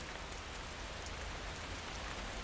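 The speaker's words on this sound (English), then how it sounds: "The rain moves on after just a few minutes." Steady rain falls across the African wilderness, a dense, even hiss of drops on the ground and foliage that holds at a constant level throughout, with no voices.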